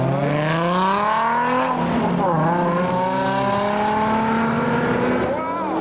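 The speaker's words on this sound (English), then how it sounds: "Here's the pink Porsche 911 and an E36 track car." A pink Porsche 911 drives past near the Nürburgring. The loud, close engine roars with strong rising and falling tones, its pitch sweeping as the car passes, continuous for several seconds.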